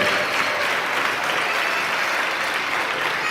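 Audience at a gun responsibility fundraiser gala applauds donors, a steady wash of clapping from a sizeable crowd that holds evenly loud throughout without talk over it.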